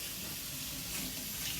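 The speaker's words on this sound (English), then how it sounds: "we're going to cold water and rinse off the surplus soap" Cold running water rinses a felted soap bar, giving a soft, steady hiss and splash that stays faint and even throughout, with no talking.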